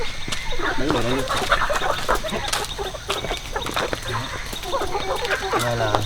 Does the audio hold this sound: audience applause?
no